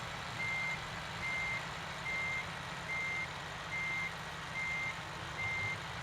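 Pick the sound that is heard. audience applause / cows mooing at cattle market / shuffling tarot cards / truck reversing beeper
truck reversing beeper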